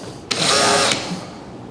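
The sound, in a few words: power drill drilling into a wall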